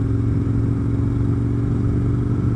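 Aprilia RSV 1000 10th Anniversary Edition motorcycle ridden along a mud-covered road, a steady low engine drone with road rumble, close and constant throughout.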